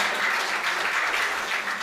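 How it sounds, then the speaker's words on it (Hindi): Loud, dense applause from an audience at a Hindi comedy or poetry stage show, a steady continuous wash of clapping with no break and no voices over it. "अपने सम्मान में जोरदार तालियां बजाइए"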